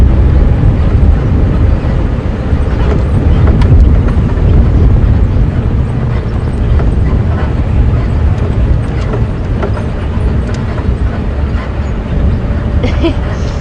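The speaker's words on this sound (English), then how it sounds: "Let's just get away from the wind, the open airstrip." Wind buffets the microphone on an open airstrip in a game reserve, a loud continuous low rumble with gusty swells and faint intermittent background sounds.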